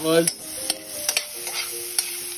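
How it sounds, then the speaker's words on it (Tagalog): Onion sautéing in a pan sizzles softly while a utensil clicks and scrapes against it several times, close and fairly quiet. "Sotay natin yung onion."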